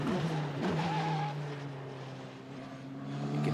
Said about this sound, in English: You can hear the tires squealing as the drivers torture them to the edge of grip in various places.